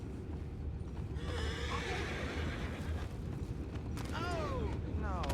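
Horses in the Red Dead Redemption 2 game whinny in two or three distinct neighs near the end, over a low steady rumble with light hoof shuffling and faint background activity.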